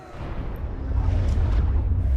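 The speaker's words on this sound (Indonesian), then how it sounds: "Tapi tiba-tiba rudal itu bergerak kembali dan terjadi ledakan besar tepat di depannya." Large missile explosion in a film: a deep, rumbling boom that swells and holds as a loud low roar for about two seconds, with no voices.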